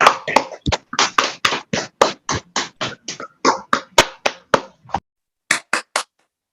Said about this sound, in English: give a warm round of applause as Angel takes the stage